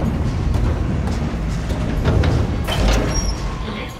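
A train in the Dead Space remake rumbles along, a loud, dense low roar with rattling metallic clatter and a few squeals near the end, continuous and close throughout.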